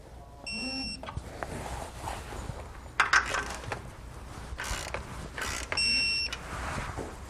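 A torque wrench or impact tool tightening hardware during an Air Lift LoadLifter 5000 air helper spring install, with short clicks and mechanical clatter amid shop noise and a couple of electronic tool beeps.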